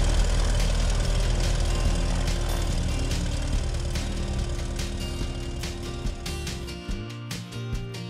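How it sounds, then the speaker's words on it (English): A Tecnam P2010 light aircraft's 215 hp Lycoming engine runs loud and steady from start to finish, a dense, continuous drone that eases slightly near the end. No voices are heard. "The engine starting procedure for the 215 horsepower Lycoming is basically just as easy as it is in the 180 horsepower"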